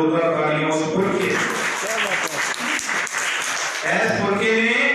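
Audience at a talk on Ambedkar and Jyotiba Phule breaks into loud applause, a dense burst of clapping that fills the middle of the clip, framed by someone speaking before and after.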